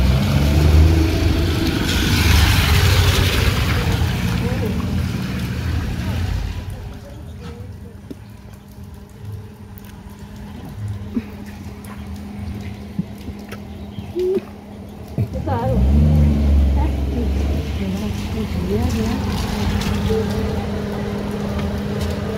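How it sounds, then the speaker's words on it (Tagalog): A family car pulls up and arrives outside, its engine rumbling low and steady for a while, then fading and returning, with voices talking nearby throughout. "Ayan po yung sasakyan nila."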